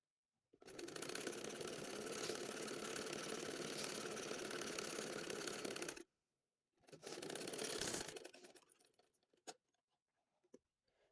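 A sewing machine stitches baby shirt fabric made from leftover cloth, with one long mechanical run of about five seconds, a pause, then a shorter burst and a few faint clicks near the end.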